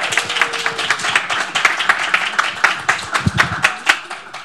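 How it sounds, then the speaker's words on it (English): An audience applauds after scholars' final project presentations, with dense, lively clapping that holds steady for several seconds and grows a little sharper and more scattered toward the end. "Please, one more round of applause for all the Hamilton Scholars."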